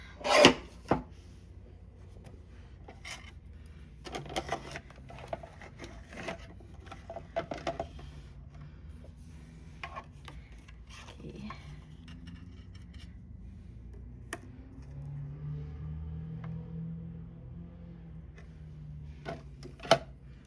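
A die cutting machine presses paper through a stitched die, giving a series of close, quiet mechanical clicks, rubs and cranking strokes, with a steadier low grinding run toward the end.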